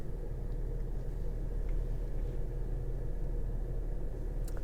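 Inside a moving Porsche Panamera sedan, the cabin stays quiet, with only a steady low road and engine rumble and a soft hiss. It is even and continuous, with no voices.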